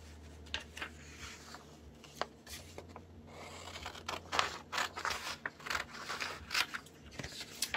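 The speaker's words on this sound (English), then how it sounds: "I'm going to cut this here." Scissors snip through paper for a collage, a run of crisp, close cuts with quiet rustling and handling in between.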